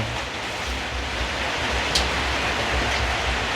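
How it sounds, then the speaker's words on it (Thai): Heavy storm rain pours down steadily near a rural house, a dense unbroken hiss filling the whole clip with a low rumble beneath and no voices. "ฝนมันตกเลยค่ะ"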